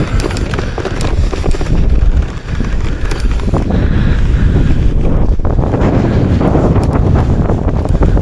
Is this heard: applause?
no